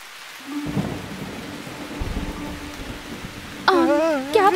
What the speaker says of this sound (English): we haven't finished fixing the dam, but the rain started.